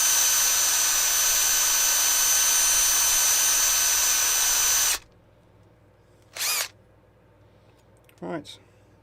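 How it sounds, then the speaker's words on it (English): A power drill whines loudly and steadily for several seconds while drilling aluminium in a workshop, then stops abruptly; two short sounds follow in the quiet. "as you drill aluminium, it gets nice and hot"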